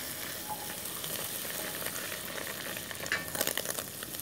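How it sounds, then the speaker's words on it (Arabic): Vermicelli toasting in oil and butter in a pan gives a steady, fairly quiet sizzle and crackle, with a few sharper pops near the end and no voices. "بدي أحمص الشعيرية"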